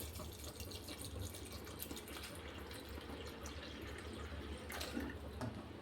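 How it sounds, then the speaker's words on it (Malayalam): Water poured into a pressure cooker holding lentils with salt and slit green chillies: a soft, steady splashing stream, faint and continuous, with no one speaking. "ഇനി ഈ പരിപ്പ് വേവാൻ ആവശ്യത്തിനുള്ള വെള്ളം ഒഴിച്ചു കൊടുക്കാം"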